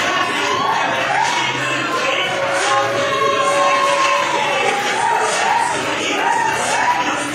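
Wrestling crowd noise from an indoor New Age Wrestling event rises into sustained cheering and shouting, a dense, moderately loud wash that runs the whole time with a voice talking over it.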